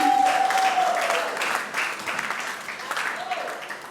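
Audience applause at an awards ceremony, a steady wash of clapping from a crowd that fades toward the end, with a brief tone and some talk mixed in.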